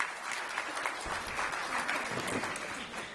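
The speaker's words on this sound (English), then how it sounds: "Please give a round of applause for ma'am." Steady audience applause from a seated crowd at a women's conference event, a continuous, moderately distant patter of many hands clapping at an even level.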